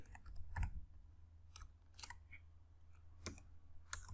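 Keys clack in short, uneven bursts on a computer keyboard while Python code is entered, the taps close and fairly quiet, separated by brief pauses.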